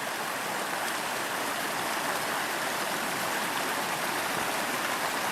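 The cold, clear Imnaha River flowing right beside a camp, a steady, close rush of water with an even, unbroken hiss and no voices.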